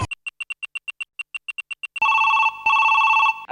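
A telephone rings loudly in a rapid series of short electronic chirps, then switches to two longer continuous ringing tones.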